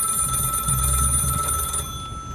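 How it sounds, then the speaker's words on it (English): A telephone rings on a call-in show with a steady electronic trill, loud and close, sounding alone before tapering off near the end. "I think I hear the phone ringing now."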